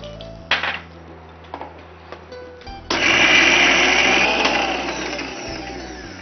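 A kitchen mixer grinder grinds coconut and curry leaves. After a few short clicks and bumps, the motor starts with a loud, steady whirring grind that runs continuously and close up to the end.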